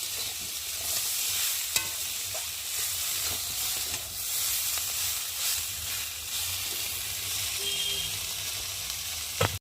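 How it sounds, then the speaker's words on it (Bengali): Spice paste fried in oil with potato and eggplant sizzles continuously while a spoon stirs and scrapes the pan, with a few sharp clinks, close and fairly loud with no talking. "যেহেতু আলু বেগুনটাও সুন্দরভাবে তেলের মধ্যে কষিয়ে নিয়েছি, আর এখন মশলাটাও কষিয়ে নেব।"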